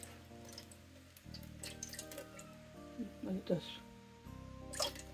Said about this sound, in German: ich gebe etwas Wasser unten rein